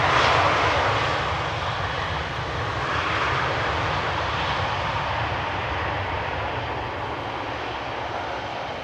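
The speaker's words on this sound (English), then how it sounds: "Lufthansa A319 just landed, arriving from Munich, flight 2302" A Lufthansa Airbus A319 jet landing at Schiphol Airport, a broad, rushing engine roar heard from a distance that swells slightly and then slowly fades while staying continuous.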